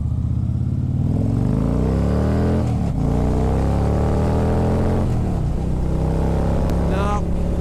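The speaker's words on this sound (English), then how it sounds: "let's bang through the gears a little bit on this on-ramp. I want to see if I can hit that corner at full throttle." Car engine accelerating hard through the gears on a highway on-ramp: a loud, close, continuous drone rising steadily in pitch with brief dips at the shifts, cabin rumble throughout.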